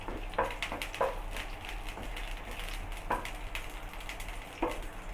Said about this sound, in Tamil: பூண்டு வந்து நல்லா வதங்கட்டுங்க.